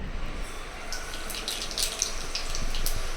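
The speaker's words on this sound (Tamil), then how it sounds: "இப்போ நம்ம அரைச்சதில் எவ்வளோ தண்ணி வேணுமோ தண்ணி ஆட் பண்ணிக்கலாம்" Water poured from a tap into a grinder jar of raw curry paste ingredients, a steady faint running splash close by with no talking.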